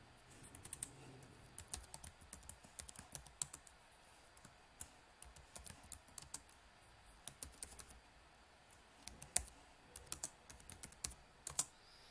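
Steady typing on a computer keyboard while filling in an online form, with irregular bursts of sharp key clicks and short pauses, close and fairly quiet, with no voices.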